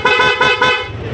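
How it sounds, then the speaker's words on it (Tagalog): A loud PIAA aftermarket car horn fitted to a Honda ADV 160 scooter blares in a few quick repeated blasts, then holds briefly, sharp and close. "Tapos sa horn, ito yung ating selector."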